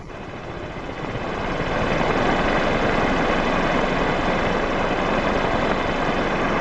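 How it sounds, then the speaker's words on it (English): A wind turbine generator tester spins up into a loud, steady whooshing roar that builds over the first two seconds and then holds constant and close. "Feel the turbine start to blow."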